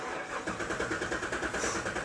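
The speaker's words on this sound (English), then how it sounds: "go ahead and turn it over real quick" A Cadillac CTS-V engine cranks over after an oil change, a steady rhythmic churning of the starter and rotating engine repeating evenly throughout, moderately loud and close with no talk.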